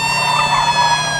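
Cartoon fire truck siren, a loud, sustained electronic tone with many stacked harmonics, holding steady and close, with no talking over it.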